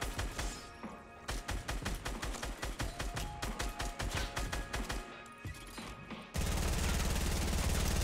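Close gunshots in Fortnite fire as a rapid, even string of about a dozen cracks lasting several seconds, and then a loud, steady burst of noise follows.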